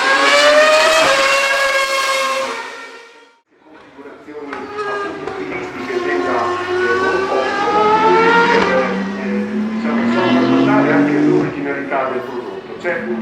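A 2013 Ferrari Formula 1 car with a V8 engine screams loudly at close range during Ferrari Racing Days at the Nürburgring, its pitch sweeping up and down through revs. The engine drops away briefly before roaring back for sustained high-pitched revving.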